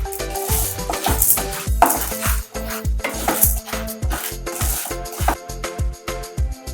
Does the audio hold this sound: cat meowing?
no